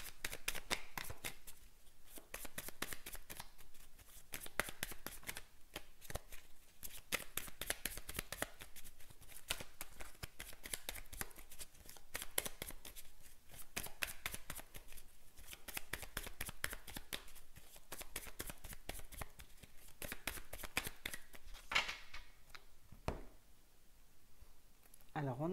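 Cards are shuffled for a Belline oracle cross reading, giving a steady, close run of rapid riffling clicks that carries on for the whole stretch with only brief pauses.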